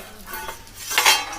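A metal lid comes off a pot of frying cauliflower and potato, with a soft scrape and a brief clink, then a faint hiss rising as the pot opens.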